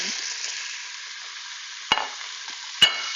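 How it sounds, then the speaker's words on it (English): Steady, bright sizzling of ground meat browning in oil in an Instant Pot, broken by two sharp clanks of a utensil scraping the pot. "You can hear it sizzling, and then you just brown your meat"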